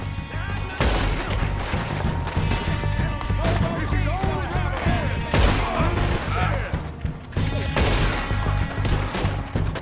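A gunfight erupts in Red Dead Redemption 2, with rapid volleys of loud, close gunshots cracking in irregular bursts over shouting voices.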